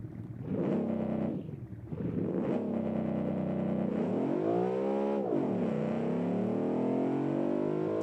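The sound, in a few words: car engine revving on two-step launch control, video game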